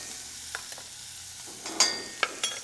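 Onions and garlic fry in butter in a hot pan with a soft, steady sizzle, broken by a few crisp clinks and scrapes of stirring.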